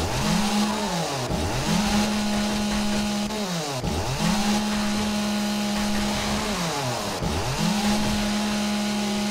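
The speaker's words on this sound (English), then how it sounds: "There we get a little chainsaw action going on." Chainsaw revving in the zombie survival game 7 Days to Die, a loud buzzing motor that rises and dips in three repeated cycles, running continuously without speech.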